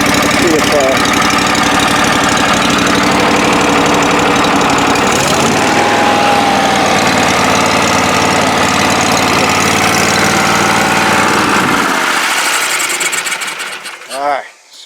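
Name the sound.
rebuilt Kohler EFI 745 engine running at low speed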